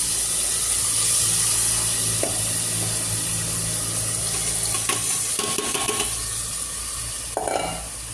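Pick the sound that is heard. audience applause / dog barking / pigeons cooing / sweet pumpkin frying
sweet pumpkin frying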